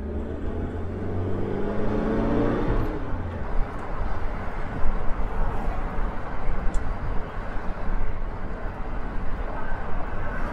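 A Suzuki X-90, back on the road after years off it, drives away from a house. A steady, broad rumble of engine and road noise fills the cabin and runs continuously throughout.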